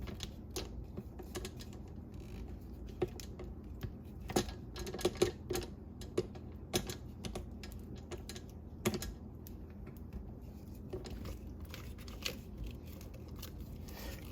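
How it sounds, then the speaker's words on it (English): A rubber spatula scrapes down a mixing bowl of strawberry cheesecake cupcake batter, making faint, irregular clicks and scratchy taps spread over a quiet background. "All right, so I'm going to do a scrape down."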